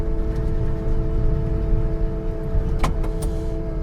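JCB Pothole Pro road machine creeping slowly forward, a steady low engine rumble with a constant hum, plus a couple of short clanks near the end.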